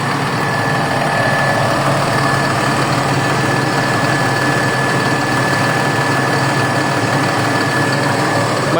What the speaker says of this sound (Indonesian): Yang gue naikin ini bisnya senyap, terus halus juga bawaannya.